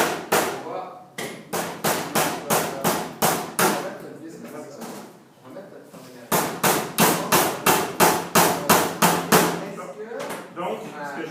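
Hammer drives a nail into wood in a woodworking workshop, with long pliers holding the nail, in two quick runs of sharp, evenly spaced blows separated by a short pause with talk between them.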